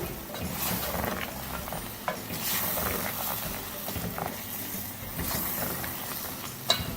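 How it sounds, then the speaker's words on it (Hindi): Chicken jalfrezi being stirred with salt in a pan: a continuous soft sizzle under scraping spoon strokes, close up, with occasional sharp clinks against the pan. "अच्छी तरह से मिक्स करेंगे।"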